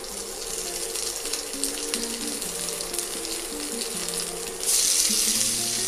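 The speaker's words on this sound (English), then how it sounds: "So we are frying this" Doubanjiang (broad bean chili paste) sizzles in hot oil in a wok, a steady loud hiss and crackle throughout, growing brighter toward the end, with no voices.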